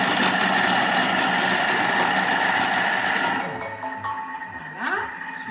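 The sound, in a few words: Thermomix blending tomato sauce for 5 seconds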